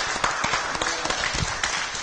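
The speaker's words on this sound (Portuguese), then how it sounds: "vamos aplaudi-los." An audience at a round-table accounting talk claps, a brief burst of scattered hand claps at moderate distance, uneven and fairly busy for about two seconds.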